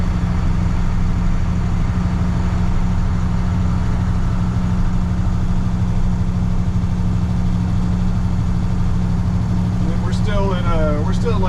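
1998 International 4700 truck with a DT466e diesel engine running at about 1500 RPM in third gear on a test drive, a loud steady low cabin rumble with a voice briefly at the end.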